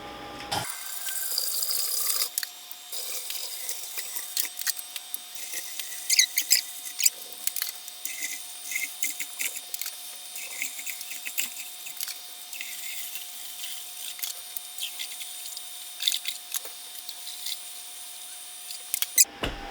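Water runs steadily into an Anvil Foundry electric brewing kettle, set to heat 8 gallons of sparge water to 170 degrees for a hazy IPA brew, a continuous close hiss of filling with no talk.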